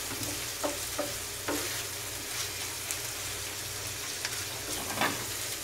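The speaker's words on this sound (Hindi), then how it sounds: "इसको हम अच्छे से भून लेंगे" Crushed ginger, garlic, cumin and coriander sizzle steadily in a pan for chicken tawa kaleji, with scattered clicks of stirring over a continuous crackling fry and no voices.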